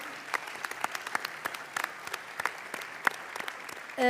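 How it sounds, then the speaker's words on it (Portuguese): Sparse, scattered claps from a small group at a literary festival panel, irregular and fairly close, fading out before a voice begins at the end. "salva de palmas, não?"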